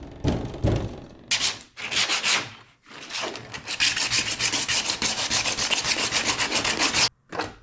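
Heavy-grit sandpaper scrubs over a surface in bursts of coarse, rasping strokes, starting with a few separate passes and then settling into fast, rhythmic back-and-forth sanding close by, ending with a brief pause and one last stroke.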